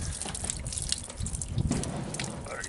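Pressure is released from an RV water softener during a back flush, with water splashing and gushing in an uneven, close, moderately loud rush that drips and trickles alone.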